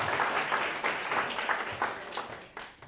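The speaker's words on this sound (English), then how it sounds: "Can we have a round of applause for Chris?" An audience applauds a presenter at a talk on diabetes foot complications, a steady wash of many hands clapping throughout at moderate, slightly distant level, tapering near the end.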